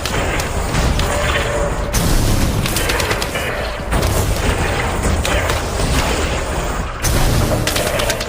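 Weapon fire from the VR game Genotype, a dense run of loud booming shots and thuds in quick succession filling the whole stretch, with brief gaps between bursts.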